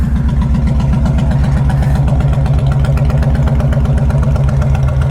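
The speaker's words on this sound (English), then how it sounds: "let's really give her the beans on the throttle here and see" A Honda Fury motorcycle engine runs loud and steady at close range, its throbbing exhaust pulsing continuously with only slight swells in pitch and no voices over it.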